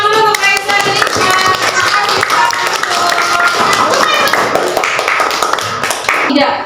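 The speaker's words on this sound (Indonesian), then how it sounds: "Kita kasih tepuk tangan dulu untuk Raisa dan Lisa." A classroom group in a teacher training session claps for two students, uneven hand claps mixed with chatter and voices throughout, moderately close.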